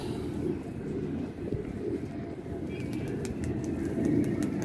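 A female teddy pigeon coos softly among other pigeons, low murmuring calls blended into a steady noisy loft background with faint chirps near the end.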